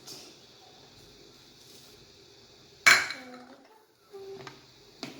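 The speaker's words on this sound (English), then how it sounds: "Now I am going to add some coconut powder and mix it" Coconut cookie batter with flour and coconut powder being mixed in a bowl, quiet scraping punctuated by a sharp clink of utensil on the bowl and a few lighter knocks, with brief talk.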